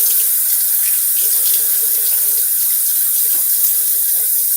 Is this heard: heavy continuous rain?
no